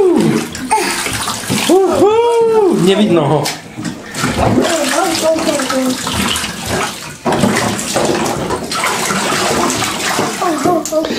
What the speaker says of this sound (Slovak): jak mamka bude vlasy umývať a jak mu vodu teraz bude liať